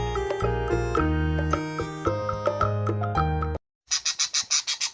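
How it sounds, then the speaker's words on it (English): A parrot gives a rapid series of about seven loud, raspy squawks after a cheerful musical jingle cuts off abruptly. "Nice parrot."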